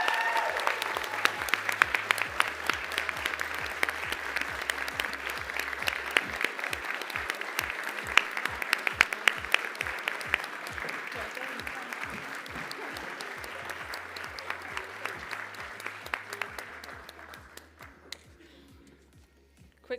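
An audience at a startup showcase applauds the winner of an Innovation Award. The applause is dense and sustained, with crisp individual claps, and thins out near the end.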